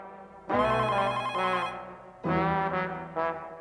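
A landline telephone rings in two bursts of ringing with a short gap between them, loud and close, with no voices over it.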